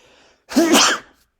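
A single loud, close sneeze bursts out over an otherwise quiet room and fades within about half a second.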